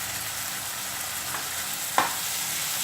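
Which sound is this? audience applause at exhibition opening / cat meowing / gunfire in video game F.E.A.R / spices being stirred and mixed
spices being stirred and mixed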